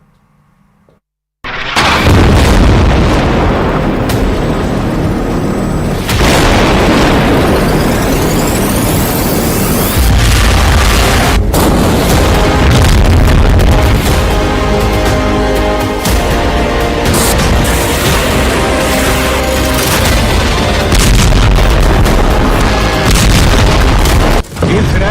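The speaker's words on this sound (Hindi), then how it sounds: "इजरायल का बम गाजा में फटता है" Heavy blasts and rumbling from bombing in Gaza, a loud sustained roar of explosions and crashing debris filling the whole stretch with repeated booms and no speech.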